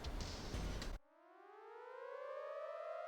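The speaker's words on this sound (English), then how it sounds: "Suddenly I heard a siren down below." A rising civil-defense style siren from the Steins;Gate 0 visual novel starts abruptly after a second of noisy background, then winds up slowly in pitch and loudness, wailing clear and alone.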